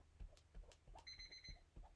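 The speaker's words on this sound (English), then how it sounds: "Oh, timer." A kitchen timer alarm gives a short, faint electronic beep in a quiet room while someone crafts at a table. Soft tapping and handling noises are heard around it.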